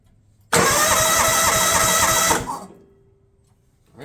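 Kawasaki-powered DR mower that has sat unused for years, its engine cranking loudly and steadily in a close, continuous burst of about two seconds before cutting off and fading out.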